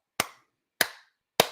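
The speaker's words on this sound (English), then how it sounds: "I'll clap right for you right now." Three sharp, close hand claps spaced evenly about half a second apart, each crisp and dry with silence between.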